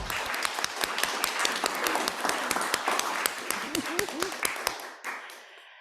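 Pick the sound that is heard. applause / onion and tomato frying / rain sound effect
applause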